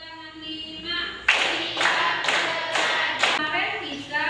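Hand clapping in a classroom exercise, a group of students clapping together in about four or five bursts of increasing length, with background voices before the claps begin.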